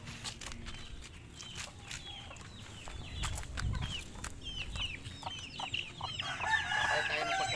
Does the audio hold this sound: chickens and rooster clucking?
yes